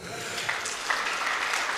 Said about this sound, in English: Give him a clap offering.